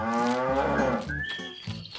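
Cattle on a farm diorama give a couple of loud, close moos, the first a long drawn-out low call and the second shorter, with a thin higher tone threading through.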